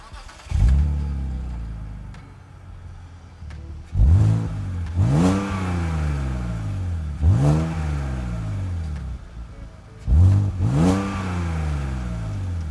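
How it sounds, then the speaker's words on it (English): A BMW E46 with a loud aftermarket exhaust revs repeatedly from idle, four sharp throttle blips rising and falling in pitch with steady idle burble between, close and alone. "And it does have a vibrant exhaust."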